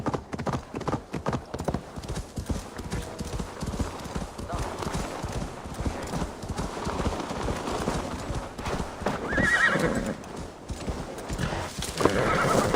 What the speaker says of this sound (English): let this horse bring balance and protection to our journey